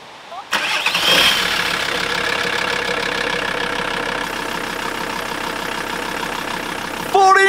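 A VW T4 Razorback van engine cranks and catches after a new alternator is fitted, then settles into a steady, fairly loud idle; a brief burst of other sound comes at the very end.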